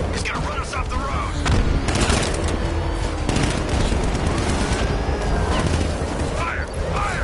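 Dense, continuous gunfire from Batman: Arkham Knight during a vehicle chase, with heavy bursts and booming impacts layered throughout while voices shout over the din.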